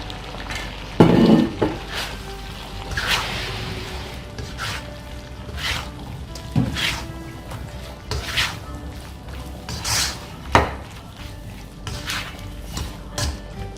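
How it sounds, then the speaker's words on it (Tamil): Cut mushrooms go into a pot of biryani and get stirred, with repeated scraping, clinking and soft sizzling at close range in irregular bursts. "இந்த ஸ்டேஜில் வந்து நம்ம கட் பண்ணி வச்சுருக்க மஷ்ரூம் சேர்த்துக்கலாம்"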